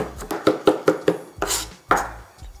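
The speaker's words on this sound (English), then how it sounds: "Just get a little chop." A knife chops smashed garlic on a cutting board in quick, sharp strikes, about eight distinct knocks with a couple of louder ones, close up and with no voices.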